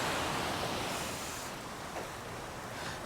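Sea waves washing onto the beach at Nerja in Spain, a continuous broad rush of surf with some wind buffeting the microphone, steady and fairly quiet throughout.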